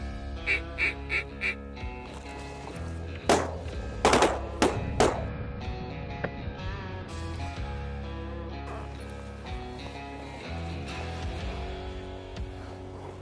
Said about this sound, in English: Gadwall.